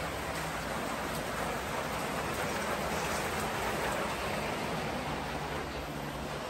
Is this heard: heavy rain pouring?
yes